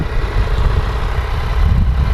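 A 2016 Yamaha XSR 900 motorcycle idling nearby with its modified exhaust, giving a loud, steady low rumble that holds evenly for the whole stretch with no voices.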